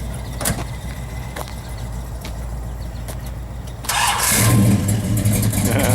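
A 1969 Dodge Dart GT engine cranks and catches partway through, then settles into a steady, louder running rumble close by.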